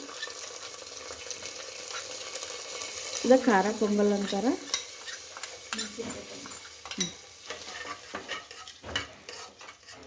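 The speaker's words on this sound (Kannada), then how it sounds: "ಈಗೇನಿದು ಒಗ್ಗರಣೆ ಕೊಟ್ಟು ನೋಡ್ರಿ ಇದ್ರೊಳಗೆ ಹಾಕೊಳಕತ್ತೀನಿ" A spoon stirs rice and lentils into a hot tempering for khara pongal in a pot, giving a brief burst of sizzling and scraping near the middle. Quieter clinks follow, and someone speaks briefly.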